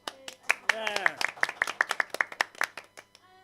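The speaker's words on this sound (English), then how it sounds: "I'm going to ask for one more round of applause for our players" A small audience at a Fringe show gives a sparse round of individual claps for the players, with a brief vocal cheer near the start before the clapping thins out.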